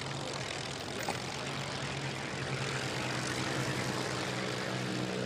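A Spitfire's propeller engine rumbles steadily as the aircraft taxis, a continuous loud drone with a low throbbing hum lasting throughout, with no speech over it.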